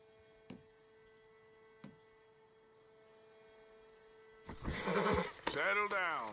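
A horse in Red Dead Redemption 2 gives a loud, close, wavering whinny that breaks in abruptly after a few seconds of quiet hum and scattered clicks.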